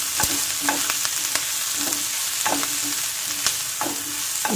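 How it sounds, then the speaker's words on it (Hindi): Mutton with green chillies fries in a pan, a steady sizzle running underneath while a spoon stirs and scrapes at an even pace, leaving a few clear clinks, with no voices. "इसको अच्छे से भून लेंगे।"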